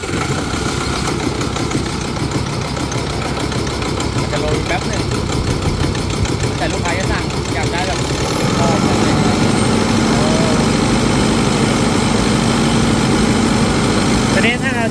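A generator driven by an Isuzu 1.9 diesel engine runs steadily nearby, its loud continuous mechanical drone with clattering, and the tone shifts to a steadier hum partway through as the load changes, under people talking.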